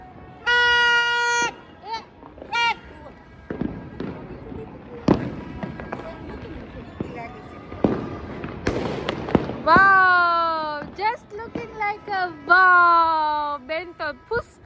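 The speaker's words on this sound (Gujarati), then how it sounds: "હવે ફટાકડા ફૂટે છે ને એટલે" Sharp firecracker bangs pop at irregular intervals during Uttarayan, some near and some distant, amid children's voices and whimpering cries.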